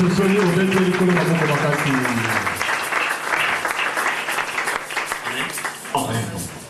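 A church congregation claps and applauds loudly at a service, broad steady applause that starts over music and singing and fades slightly, with voices mixed in near the end.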